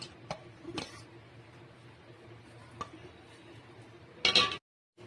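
Raw cucumber pieces being mixed into cucumber pickle in a dish, with a few sharp utensil clinks against the dish and a louder scraping burst near the end, otherwise quiet.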